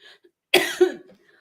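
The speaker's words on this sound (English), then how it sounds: "now I'm going to start coughing" A single burst of harsh coughing, close and fairly loud, lasting about half a second, with faint breathing before and after.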